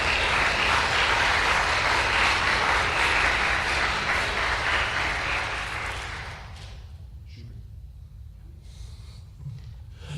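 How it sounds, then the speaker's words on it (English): Steady broadband crowd applause, loud and sustained, then fading out after about six seconds into a quiet room. "Let's give him a round of applause."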